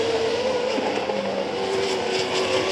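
Auto GP race cars at the Hungaroring in 2013 scream past in a steady, loud, high engine whine, with several cars close together and no break in the noise.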